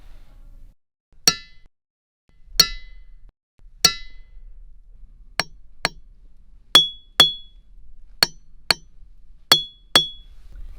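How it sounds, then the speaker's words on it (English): Ringing rocks in a Pennsylvania boulder field are struck again and again, each hit giving a sharp, bright metallic clink with a brief ring, about a dozen strikes, close and loud, some in quick pairs, with no talk. "Some of the rocks in this field, though, release a distinct ringing sound."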